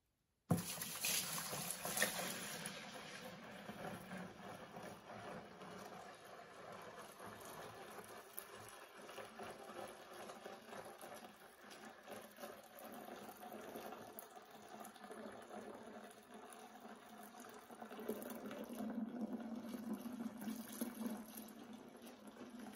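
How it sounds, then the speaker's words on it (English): Cooled Russian Imperial Stout wort, made from an extract kit, is poured from the kettle into a fermenter, giving a steady splashing, gurgling flow that runs continuously at moderate level, starting with a sharp initial pour. "I'm going to dump it in to the fermenter here"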